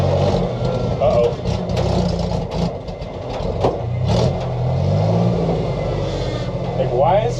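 An old Jeep engine revs hard in first gear on a test ride, a loud, continuous rumbling drone that swells and holds under excited talk from the driver.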